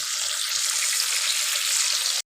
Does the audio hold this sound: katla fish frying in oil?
yes